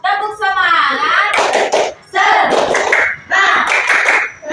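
Schoolchildren clap a rhythmic "tepuk semangat" cheer in a primary school classroom, loud bursts of patterned clapping alternating with the group's chanted voices up close.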